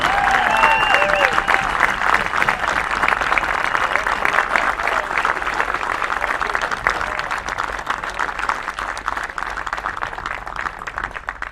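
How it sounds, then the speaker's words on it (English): Crowd applause at the 2018 CAA Baseball Championship for the runner-up Northeastern team, a loud, steady wash of clapping and cheering from a large stadium audience that holds for over ten seconds and eases slightly toward the end. "Let's give the Huskies of Northeastern a round of applause for their outstanding play all season long."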